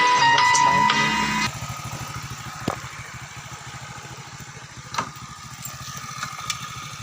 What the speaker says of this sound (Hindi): आ रहे हैं पानी के अंदर से बाइक लेके